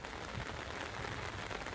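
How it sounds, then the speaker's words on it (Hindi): Heavy rain in Anantnag, Jammu and Kashmir, pattering densely onto surfaces as a steady, close hiss of countless drops without a break. "जम्मू कश्मीर के अनंतनाग में भी बारिश ने बुरा हाल किया है।"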